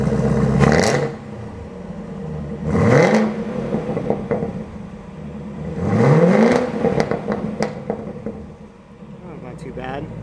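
A stock-exhaust 2018 Camaro ZL1 1LE is blipped three times, each loud revving burst rising in pitch and falling back to a rumbling idle between pulls, heard fairly close.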